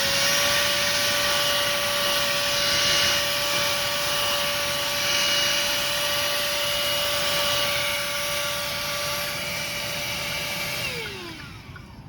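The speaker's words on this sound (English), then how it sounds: "here's my vacuum, which by the way, I want to show you this because it's so cool. You turn it on." A small handheld car vacuum cleaner runs with a steady high-pitched motor whine and airy rush, loud and close, then winds down as it is switched off near the end.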